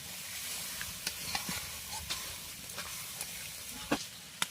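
Coconut milk paste for golda chingri malaikari cooking in a pan, a soft steady sizzle and hiss with occasional faint scrapes of stirring, quiet and close.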